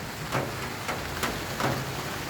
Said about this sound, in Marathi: आता वाढला पाऊस